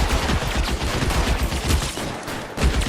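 Rapid, dense gunfire from a shootout in the game LA Noire rattles continuously and loudly in close, overlapping bursts.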